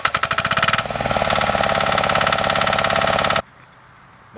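A Zarya SH 135 E walk-behind tractor engine cranks with a few rapid chugging pulses, catches and runs at a loud, steady, rattling idle close by, then cuts off abruptly into near silence.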